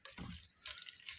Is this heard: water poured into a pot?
yes